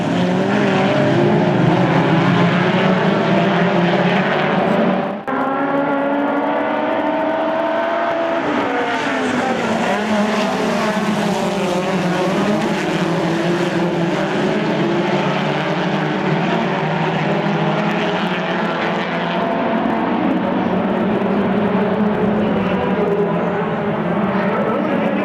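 Midget race cars at Williams Grove roar together in a loud, continuous engine drone lasting over twenty seconds, rising and falling in pitch as they circle the track.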